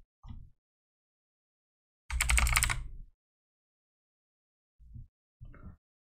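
Several separate clicks and bumps from a computer mouse ticking checkboxes, spaced out with silence between them, one longer, louder burst in the middle.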